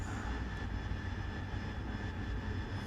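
An AV-8B Harrier jet engine in DCS World on a controlled landing descent gives a steady, loud roar with a constant whine, unbroken and with no voices.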